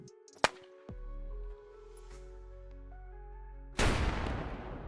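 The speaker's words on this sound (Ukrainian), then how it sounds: "Звучить їх вибух також дуже прикольно." Two VOG-17 grenade explosions in the video game Squad: a sharp near blast with a rumbling tail, a quiet pause, then a second loud, noisy burst that decays slowly.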